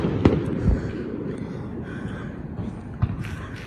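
Fireworks burst low overhead at a firework show, sharp booms at the start and again near the three-second mark over a steady crackling, rumbling wash of distant explosions.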